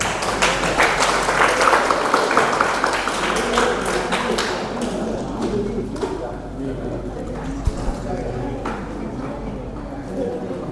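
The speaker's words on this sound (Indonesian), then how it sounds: "Kita tepuk tangan untuk semuanya." Students in a medical lecture on maqasid syariah clap for everyone, a dense patter of hands in a room that thins out into scattered taps, with a voice talking over the end.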